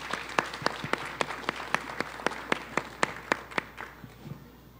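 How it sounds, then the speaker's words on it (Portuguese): An audience at a literary festival in Araxá, Brazil, applauds with a run of distinct, evenly spaced claps standing out over a softer crowd patter, fading toward the end. "Dá uma salva de palmas para eles, que eles merecem,"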